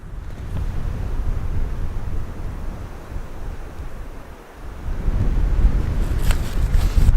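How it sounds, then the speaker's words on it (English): Steady wind buffets the microphone with a low rumbling roar on a hike near a frozen lake in Nova Scotia, gusting stronger toward the end; no voices. "It's a little windy"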